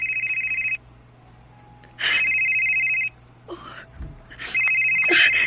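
A telephone rings with an incoming call in repeated bursts, loud and close, with short gaps between rings and a brief spoken exclamation between them.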